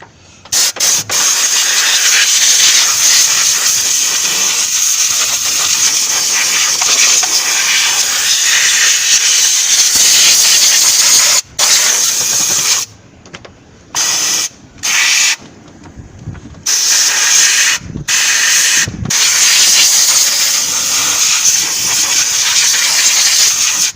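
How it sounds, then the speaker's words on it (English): Compressed air hisses in loud, steady blasts to blow dirt off the engine of a 1999 Ford Expedition, close by, broken into shorter bursts toward the end with brief gaps of silence. "go ahead and blow all this dirt off so it doesn't fall down into the cylinders, onto the head, camshaft"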